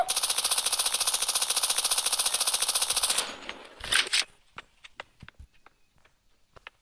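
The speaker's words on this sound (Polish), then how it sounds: "Chłop wali z jakiegoś mikro czegoś" A small gun in a robot-hunting video game fires a fast, steady rattling stream for about three seconds, then a couple of louder bangs follow, trailing into scattered faint clicks and footsteps.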